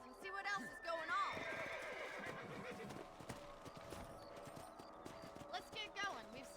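In the Red Dead Redemption video game, horses neigh with shrill whinnies near the start and end while hooves clip-clop steadily between them, with a voice talking over parts of it.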